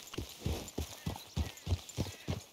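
Horse hooves clip-clop at a steady trot in Red Dead Redemption 2, a regular run of soft thuds at moderate distance with no talk over them.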